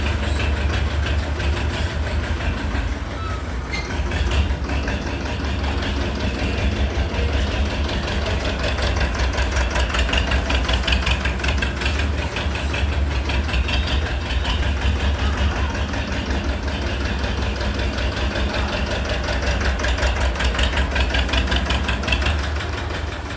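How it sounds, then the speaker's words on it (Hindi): Tractor engine running steadily in a village field, a continuous low diesel drone with a knocking rumble that holds near and fairly loud throughout, with no talk over it. "तो ये उन पर ट्रैक्टर चला रहे हैं।"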